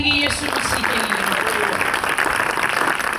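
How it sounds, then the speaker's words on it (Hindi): Church congregation clapping together in Pakistan, a dense steady wash of applause lasting a few seconds with a preacher's voice faintly present underneath. "Clap your hand for Jesus Christ."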